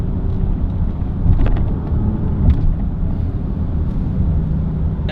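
A 2022 Dodge Charger Hellcat widebody's supercharged engine accelerating, a loud continuous low rumble and roar with a couple of surges, heard from inside the car.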